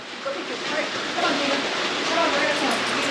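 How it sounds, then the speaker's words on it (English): Rain falls on and around an RV, a steady broadband hiss of drops that holds evenly and fairly loud throughout. "Ooh, it's raining now."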